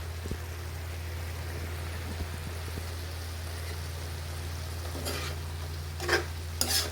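Vegetables bubbling and sizzling as they cook in a pan, close and continuous, with a few scraping stirs near the end.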